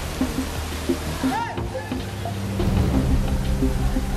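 Heavy rain in Mumbai, a steady hiss of downpour and running water that grows slightly louder partway through, mixed with street sounds and a voice speaking over it.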